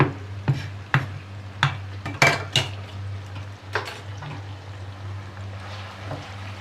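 Chopped onions fry in a pan for a bitter gourd and mutton dish, with a steady low sizzle beneath repeated sharp clinks and scrapes of a utensil stirring against the metal, close up and without talk.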